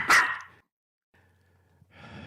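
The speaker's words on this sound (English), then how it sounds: "there's a lot of other pups around, and they can sometimes be pretty loud" A burst of loud barking from dogs in a shelter kennel right at the start, then near silence with faint background noise, and a low rustle building toward the end.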